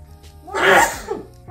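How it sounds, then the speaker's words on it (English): A person sneezes once, a sharp, close burst of breath that quickly fades, followed by a short exhale. "I think I'm gonna sneeze."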